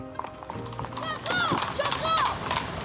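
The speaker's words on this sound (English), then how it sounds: "Their 5-mile trip begins at a gentle trot." Several horses trot down a country lane pulling sulky carts during a season-opening drive, their steady clip-clop hoofbeats mixing with the rattle of wheels and children talking nearby.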